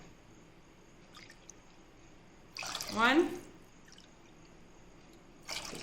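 Two cups of water poured into a pan while making semiya rava upma, a short splashing burst of about half a second, fairly close, between quieter stretches with faint background noise.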